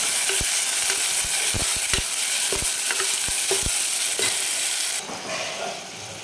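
Chopped tomato sautés in a hot pan, loud continuous sizzling punctuated by quick rhythmic spatula knocks against the pan, the frying hiss easing slightly near the end.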